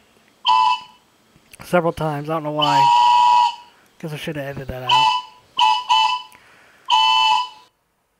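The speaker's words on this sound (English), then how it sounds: "that's a training whistle that I'm going to demonstrate" A training whistle is blown in several loud, shrill blasts of varying length, some warbling, close to the listener, with someone talking in between.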